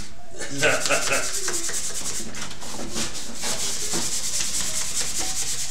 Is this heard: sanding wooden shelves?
yes